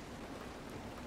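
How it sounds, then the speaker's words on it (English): Rain falls in the video game Road 96, a soft, steady hiss of rainfall that stays faint and even throughout the short moment. "Oh, it's raining."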